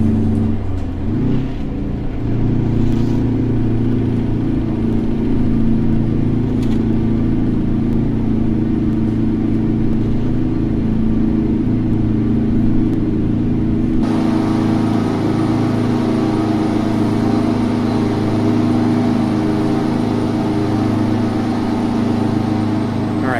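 A diesel truck engine works hard up a steep grade in American Truck Simulator, a loud, steady, droning rumble that holds on without pause, with a shift in tone partway through.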